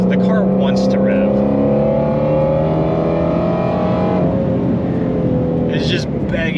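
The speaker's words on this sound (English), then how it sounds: "the car wants to rev" A supercharged Shelby GT350 V8 revs hard, its engine note climbing steadily in pitch as it pulls, loud and close inside the car, then easing briefly before rising again.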